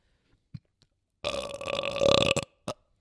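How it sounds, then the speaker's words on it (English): One long, loud, close burp lasting over a second, preceded by a few small mouth clicks and followed by a short exhaled noise. "That was a Bruce Bogtrotter burp, that."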